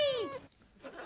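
A cat gives a single short, falling meow close by, followed by a faint trailing sound and quiet.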